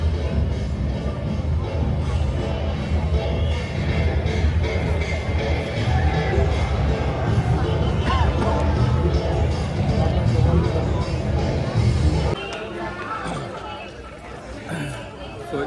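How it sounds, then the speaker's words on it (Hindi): A dense crowd murmurs and chatters steadily in the Mahakal Lok corridor in Ujjain on a busy full-moon Saturday during an evening light show. The babble is loud and constant, then eases slightly near the end. "यूजुअल डेज में इतनी भीड़ नहीं होती है, लेकिन क्योंकि आज पूर्णिमा भी है और सैटरडे भी है, इसलिए ज़्यादा भीड़ है।"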